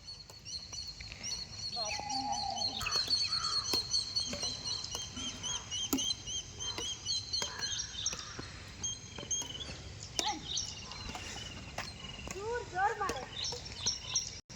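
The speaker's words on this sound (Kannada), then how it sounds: "ಅಲ್ಲಲ್ಲೇ ಹಕ್ಕಿಗಳ ಚಿಲಿಪಿಲಿ ಕಲರವ ಎಷ್ಟು ಚೆಂದ ಕೇಳಿಸ್ತಾ ಇದೆ ಅಲ್ವಾ" Many birds chirping and calling at once, near and far, a lively chorus with scattered sharp clicks and taps throughout.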